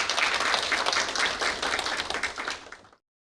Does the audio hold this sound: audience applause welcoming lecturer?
yes